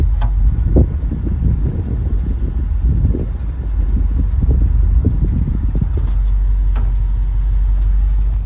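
A 1970 GMC 2500 pickup truck on its first test drive, with a steady low engine and road rumble throughout, wind buffeting the microphone and a few faint clunks.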